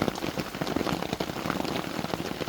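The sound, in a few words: rain falling at a campground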